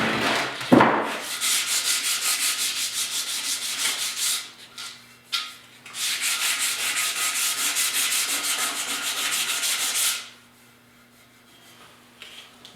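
Hand sanding of a rusty tire rim with 150 grit sandpaper, a steady rasping scrub in long bursts with brief pauses, close and fairly loud, ending in quieter scratching.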